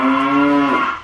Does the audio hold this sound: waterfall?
no